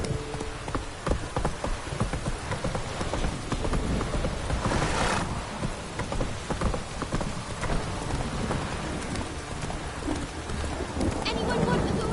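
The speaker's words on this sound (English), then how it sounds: "Come on, Roach." Horse hooves clopping in The Witcher 3, steady galloping footfalls under a continuous rain-like hiss of ambient game sound, with some mixed game noise.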